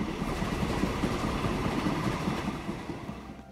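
A train runs along rails in the Transport Fever 2 console edition. It gives a steady, dense rumble with a faint rhythmic clatter that stays even, then eases slightly toward the end.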